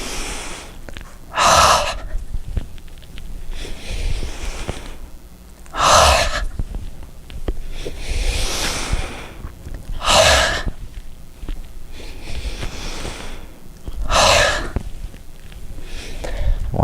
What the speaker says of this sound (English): And you can make a ha sound